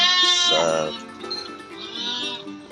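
Backyard goats and sheep bleat close by, with a loud wavering cry in the first second and softer bleats following.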